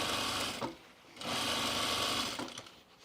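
Sewing machine fitted with a buttonhole attachment stitching through a jeans waistband, two bursts of fast, even motor whirring separated by a brief pause, close and fairly quiet.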